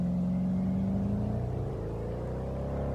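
A Porsche Panamera engine revs steadily at high RPM while driving in Euro Truck Simulator 2, a loud continuous game-engine drone with a steady pitch that sags slightly partway through.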